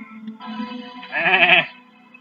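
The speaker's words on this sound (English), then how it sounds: "Hello, my little sheep." Sheep bleating in the video game Duke Nukem: Time to Kill, a single wavering bleat rising to a loud, nasal peak near the end before fading, clear and close with no talk over it.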